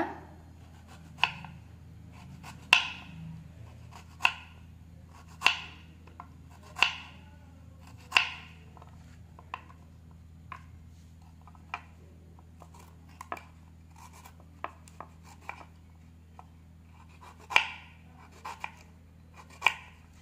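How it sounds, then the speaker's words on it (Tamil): A knife cubing raw mango for pickle, heard as a series of crisp, close chopping clicks at a fairly regular pace, some louder than others, over a quiet background with no talk. "மீடியமாக கட் பண்ணிவிட்டு அதை வந்து க்யூப்ஸாக கட் பண்ணிக்கோங்க"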